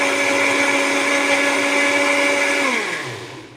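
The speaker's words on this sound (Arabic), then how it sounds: "حطينا كوبايه الزبده على كوبايه اللبن ضربنا كده" An electric blender whirs loudly and steadily as it mixes milk and oil into homemade butter, then winds down and stops near the end; no voices.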